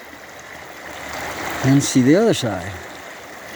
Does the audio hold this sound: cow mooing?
no